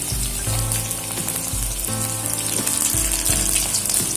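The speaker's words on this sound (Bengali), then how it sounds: "আমি এখানে অল্প অল্প করে সবজি দেবো আর নাড়াচাড়া করে ভেজে নেব" Chopped vegetables for labra frying in a pan and being stirred, a loud close sizzle with a watery gushing quality and repeated low thumping strokes, no voices.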